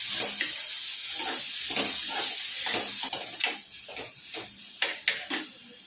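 Vegetables with garlic-ginger paste sizzle and hiss in a hot pan, a steady frying crackle broken by several scraping stirs and taps of the spoon toward the end.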